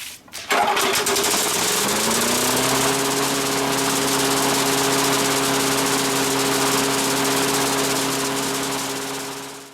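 A weedeater lawn mower engine, not run in over ten years, catches on the first cord pull with a sharp start, then settles into a loud, steady running drone that continues alone to the end.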